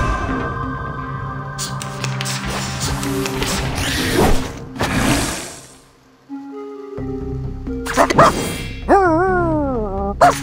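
Puppies bark in the video game Reverse: 1999, a run of short yips and barks over game music and effects, ending in a rising whimpering whine.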